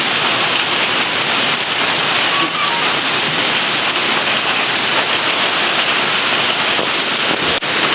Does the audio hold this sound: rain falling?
yes